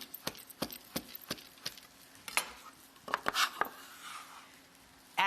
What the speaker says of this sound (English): Slice this into eggy ribbons